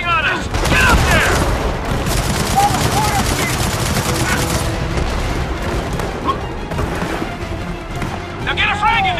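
A machine gun nest in Gears of War 4 fires continuous loud bursts amid heavy battle noise, with rapid rattling fire throughout, booming impacts, and shouted voices over the din.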